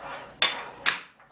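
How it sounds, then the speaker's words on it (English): Two sharp metallic clanks sound as a wrench loosens the die on a tabletop pasta extruder, each strike close and crisp with a short ringing decay, and nothing else heard. "We've got the wrench. Loosens it up."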